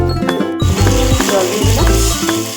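Egg sauce sizzles and bubbles loudly in a pan as water is poured in, with stirring and faint clinks of a utensil against the pan throughout.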